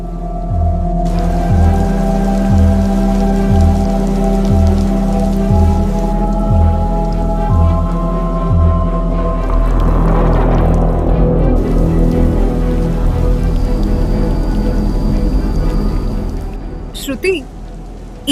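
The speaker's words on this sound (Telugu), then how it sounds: "బయట భారీ వర్షం, వాళ్ళు పూర్తిగా తడిచిపోయారు." Heavy rain falls outside an old hostel in a Telugu horror drama. A steady wash of rain sits under a sustained eerie musical drone and a voice, with a brief sharp sound at the very end.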